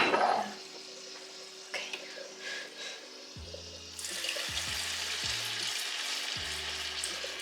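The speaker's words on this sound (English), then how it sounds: "Not add too many Manchurian in the oil right now." Veg Manchurian balls of cabbage dough frying in hot oil in a home kitchen, a low quiet sizzle that swells into a steadier, louder bubbling hiss partway through, with tonal background hum and no talking.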